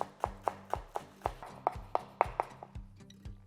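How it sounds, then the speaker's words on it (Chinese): A knife chops scallions finely on a cutting board in a steady run of about a dozen crisp, close taps. The rhythm is even with no talking. "切点细葱碎，"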